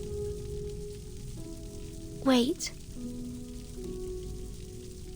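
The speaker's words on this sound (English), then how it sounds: "Is that rain I hear?" Rain hisses steadily in a scene from the game Reverse: 1999 beneath a soft tonal hum, briefly interrupted by a short spoken word.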